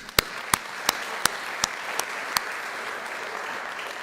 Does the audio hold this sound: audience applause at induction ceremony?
yes